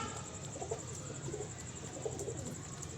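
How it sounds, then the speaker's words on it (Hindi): Pigeon cooing softly and repeatedly in short murmuring phrases while it eats grain outdoors around dusk, set against steady background noise with no talk. "ये देखे कबूतर दाना खा रहा है"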